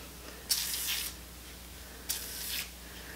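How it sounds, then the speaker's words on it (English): Two short bursts of root lift foam sprayed from a can onto the scalp at a rough parting, each a soft hiss lasting about half a second, close and fairly quiet, with no talking. "and spray it right in there."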